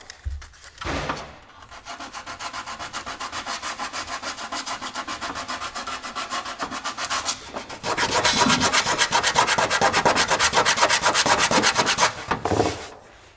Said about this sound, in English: So we've now got to rub it all back again and do it again.